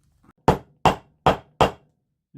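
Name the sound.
hammer knocking an old rivet out of a vintage haversack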